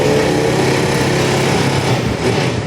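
A Honda Click 150 scooter engine, running after a starter relay repair, idles loud and close as a steady, high-pitched buzzing drone that holds without a break.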